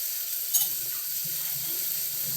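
Onion, ginger and garlic are sautéed in a pan, giving a soft, steady sizzle with a brief scrape of stirring, faint and close.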